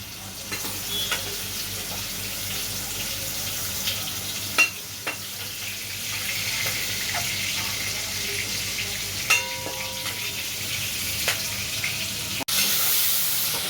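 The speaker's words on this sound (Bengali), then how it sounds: "এই পনিরগুলোকে হালকা ভাজবো" Paneer cubes fry lightly in hot oil in a pan, a steady, close sizzle that runs throughout, with occasional clinks and stirring knocks against the pan.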